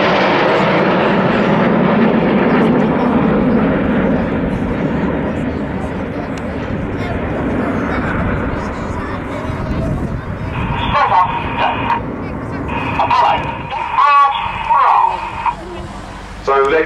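Aerobatic display team jets performing at Farnborough Airshow 2010, a broad loud engine roar that fades over several seconds, with a crowd announcer talking over the noise.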